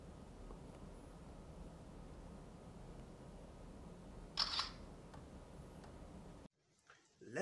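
A Doogee S35 rugged phone's front camera fires one short, crisp shutter click in a quiet room, then the sound cuts off.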